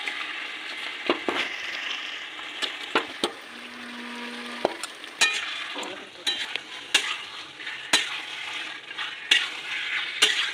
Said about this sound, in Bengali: মশলাটা কষানো হয়ে গেছে, এবার আমি মাংসগুলো দিয়ে দেবো।